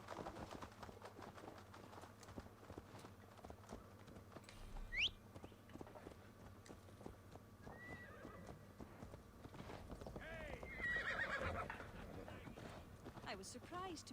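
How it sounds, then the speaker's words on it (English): In Assassin's Creed Valhalla, a horse whinnies once, clearly, amid steady clip-clopping hooves, with a second whinny later, over a quiet in-game ambience with faint voices. "Ah, there's my horse."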